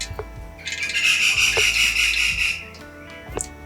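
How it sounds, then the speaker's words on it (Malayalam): A steady, hissing crackle of mustard seeds spluttering in hot oil lasts about two seconds, with a few sharp pops and clinks before and after. "കടുക് നന്നായി പൊട്ടിയിട്ടുണ്ട്"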